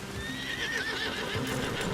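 A horse in Red Dead Redemption 2 gives a loud, close whinny with rising and falling pitch, while hooves clop softly underneath.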